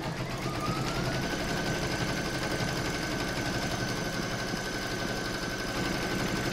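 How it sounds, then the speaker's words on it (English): An embroidery machine stitches a table topper in the hoop, a continuous close mechanical whirr with fast rhythmic needle ticking and a faint steady whine throughout. "I'll pop that in my machine and stitch round number 2"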